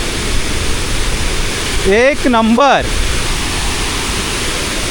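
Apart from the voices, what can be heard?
Ukshi Ranpat waterfall roaring up close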